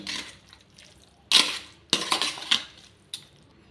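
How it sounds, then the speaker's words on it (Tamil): A spoon stirs curd into vermicelli in a bowl, giving a few sharp clinks and wet scraping knocks spaced irregularly over a few seconds, close and moderately loud with quiet gaps between. "இப்போ தயிரையும் சேமியும் நல்லா மிக்ஸ் பண்ணி விட்டுறலாம்"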